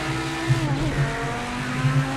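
A Group B Audi rallycross car engine in Project CARS 2 drones steadily with slight rises and dips in pitch as shifts are missed, at moderate volume without speech.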